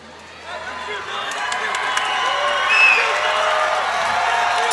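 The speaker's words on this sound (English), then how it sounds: "Dillon Stidham whooping up the crowd in his hometown here" A hometown crowd at a Tre Jennings vs Dillon Stidham fight cheers, whoops and claps steadily, rising and holding loud throughout while awaiting the judges' decision.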